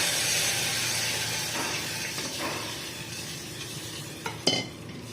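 Jowar ambil, a sorghum porridge, goes into a hot tempering with hing and is stirred, a steady sizzle slowly fading while soft spoon scrapes and a sharp clink sound near the end.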